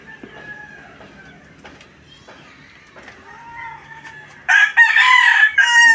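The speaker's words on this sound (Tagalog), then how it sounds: "Bakit maingay ang manok?" Hens cluck softly nearby, then a loud rooster crows twice in quick succession, close and dominant.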